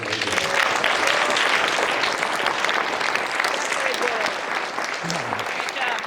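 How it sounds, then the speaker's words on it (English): A TED talk audience delivers a sustained round of applause, a loud, full, continuous roar of many hands clapping that barely fades over six seconds. "one more round of applause, please."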